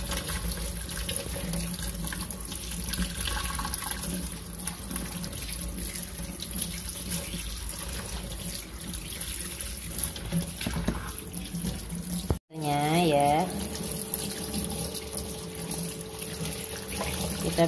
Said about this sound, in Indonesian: Ikannya sudah dibersihin ya Bun sama orang yang di pasar tadi, jadi saya tinggal cuci bersih aja.